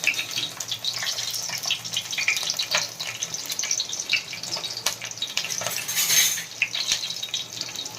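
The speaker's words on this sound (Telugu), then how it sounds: "ఈ పచ్చిమిర్చిని ఇలా వేయించుకోవాలి ఇలా వేగేటప్పుడు" Green chilies fry in hot oil for a fish curry, producing a steady crackling sizzle with scattered pops, fairly close and without talk.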